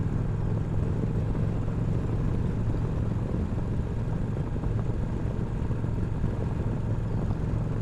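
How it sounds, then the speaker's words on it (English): A motorcycle is ridden along the road, its engine droning loud and constant with steady wind rumble and no pauses. "Feeling more and more confident riding a bike now."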